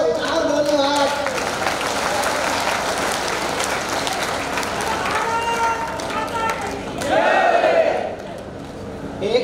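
An audience applauds at a Hindi poetry recitation in Indore, a loud burst of dense clapping from the crowd mixed with voices that continues throughout and swells again near the end.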